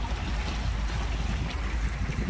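A 21-foot Stingray cuddy cabin boat with a V8 cruises on a lake in a good breeze. A low engine rumble mixes with rushing water and heavy wind buffeting the microphone, steady and unbroken.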